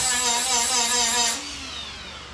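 A Milwaukee grinder grinds the rocker panel of a 1977 Chevy square body truck, whining loud and close, then easing off as the disc spins down.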